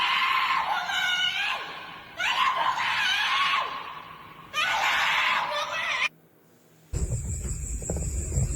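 A girl's shrill, sustained screams and shrieks repeat in three long bursts, loud and close, then a brief drop before a harsh noisy burst with a high tone.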